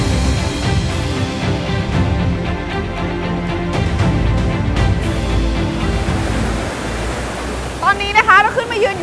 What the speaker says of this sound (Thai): เดี๋ยวที่พาคุณผู้ชมไปชมน้ำตกนี้กันแบบใกล้ๆด้วยดีกว่า